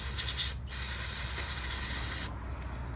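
Close aerosol spray of cleaner on 1997 Honda CR250R carburetor parts: a short burst, a quick break, then a longer steady hiss that cuts off, leaving a brief fainter spray.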